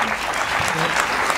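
Studio audience applause on a Turkish talk show, a steady dense clapping wash filling the whole moment at close, even loudness with voices mixed in.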